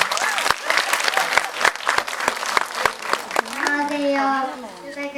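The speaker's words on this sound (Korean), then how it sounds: "큰 박수 부탁드립니다." Audience applause at a film talk event in a cinema, a series of distinct sharp claps followed by a voice speaking over a lingering tone toward the end.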